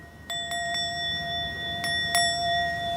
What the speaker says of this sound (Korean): 이렇게 이 종소리가 깨어 있잖아요